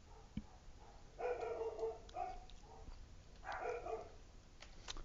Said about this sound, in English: My dogs are barking again.